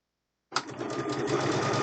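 A Gemini sewing machine stitches a log cabin quilt block, starting abruptly after a brief silence and then running in a steady, close, continuous whir with no talk over it.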